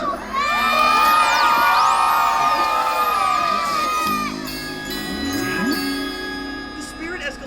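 Children and an audience cheer loudly at a holiday Christmas show, high excited shouts and whoops forming a dense crowd roar that eases slightly midway, with jingling bell-like tones mixed in.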